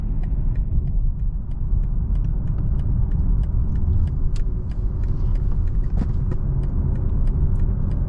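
Interior cabin sound of a 2020 BMW 740i cruising on a highway in sport mode, a steady low road and engine rumble with faint tire noise and scattered small ticks and rattles.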